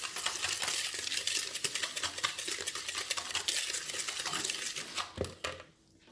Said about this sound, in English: So we've got the oil and the sugar. And we're going to whisk this up.